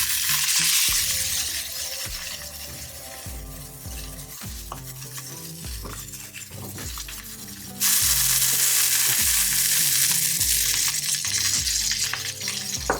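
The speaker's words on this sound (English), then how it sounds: "I want to make sure that there's a beautiful crust and sear." A NY striploin steak sears in a hot pan, a loud steady sizzle running throughout with scraping and stirring clatter, growing briefly louder partway through.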